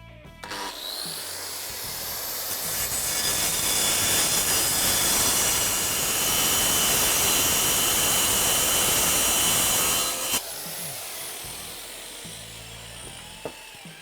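An Evolution electric concrete saw cuts through thick steel rebar, a loud, sustained high-pitched grinding whine lasting about ten seconds before it abruptly stops and the motor winds down.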